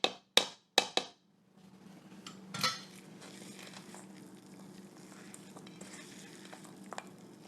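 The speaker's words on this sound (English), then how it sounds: "I'm just going to fold it in with the spatula." A spatula folds muffin batter in a bowl, a few sharp clinks against the bowl at the start, then soft, quiet scraping and sticky stirring that carries on steadily in a quiet kitchen.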